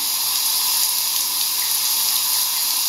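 Shower water streaming steadily and loudly, a continuous close hiss of spray with no pauses.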